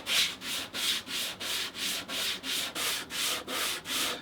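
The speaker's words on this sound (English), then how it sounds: "All I do, a little piece of sandpaper on a flat surface" Leather edges are sanded by hand on a scrap of sandpaper laid on a flat surface, about eleven even back-and-forth rasping strokes in a steady rhythm, close and fairly quiet.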